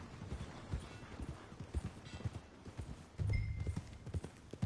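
Horse hooves clip-clop steadily in Red Dead Redemption 2, a regular close-up rhythm of hoof strikes on the ground that carries through the whole stretch, with a brief louder low rumble near the end.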